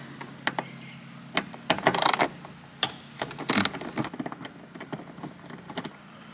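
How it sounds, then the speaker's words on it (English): A ratchet works loose a 10 millimeter bolt on a Toyota Tacoma, giving close, sharp clicks in uneven bursts with a couple of louder rattling clatters of metal parts. "it should be a 10 millimeter bolt. You want to go ahead and remove that."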